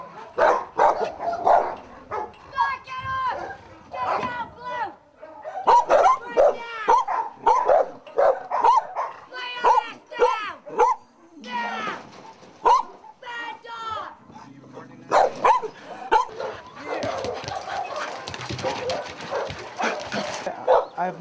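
Many dogs at a rescue site in a neglected village bark, yip and whimper in overlapping bursts, loud and close, with people talking among them.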